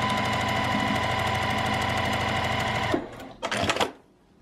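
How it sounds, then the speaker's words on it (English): A sewing machine runs steadily for about three seconds, stitching quilt-as-you-go zipper pouch pieces right sides together with a quarter-inch seam, then stops and gives a couple of short whirring bursts before falling quiet. "Always sewing my new piece on right sides together and with 1/4 inch seam allowance, just like you would in normal quilting."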